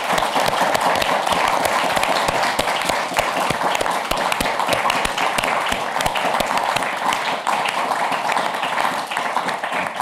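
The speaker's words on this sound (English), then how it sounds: "give a huge round of applause to our contributors, to Patrick and the others" Sustained applause from a large lecture audience, dense and steady clapping that continues at full strength for the whole stretch.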